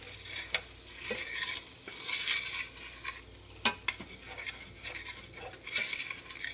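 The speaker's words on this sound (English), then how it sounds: "So I put the flour in, and let's stir that up." Flour being stirred into melted butter in a pan for a chicken pot pie roux, with steady scraping and soft sizzling, sharp utensil taps against the pan scattered throughout, close and moderately loud.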